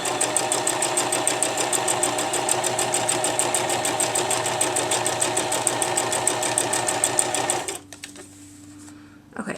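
A sewing machine stitches sock fabric while sewing a sock monkey, running in a steady, rapid mechanical rhythm for most of the stretch before stopping, leaving a quieter hum and faint handling sounds.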